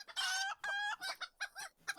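Chickens in a video game cluck in a loud, rapid run of calls, some stretched into crow-like squawks, close up with no talk.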